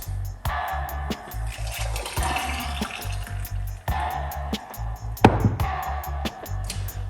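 A homemade morning drink is poured out, the liquid splashing in a steady stream with rhythmic low glugging pulses and a few brief breaks and knocks along the way.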